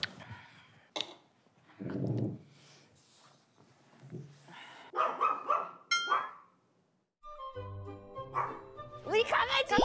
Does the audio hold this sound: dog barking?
yes